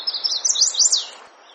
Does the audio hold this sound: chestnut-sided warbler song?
yes